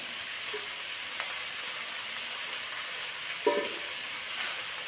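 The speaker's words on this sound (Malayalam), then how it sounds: "പാകത്തിന് കുറച്ച് ഉപ്പിട്ട് ഒന്ന് നന്നായിട്ടൊന്ന് വഴറ്റിയെടുക്കാം." Chicken curry masala sautéing with salt in a pan gives a steady, even sizzle, with a faint scrape of stirring now and then and no voices.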